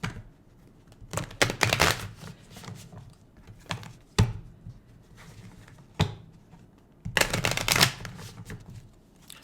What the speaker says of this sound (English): trying to shuffle these cards